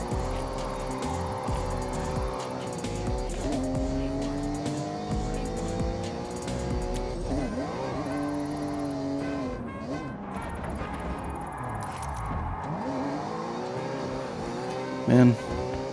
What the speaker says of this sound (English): Off-roading in a car that is definitely not made for off-roading